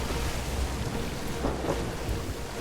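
A thunderstorm at sea in the pirate video game Sea of Thieves: steady dense rain hiss with deep rolling thunder rumbling underneath, continuous and fairly loud throughout.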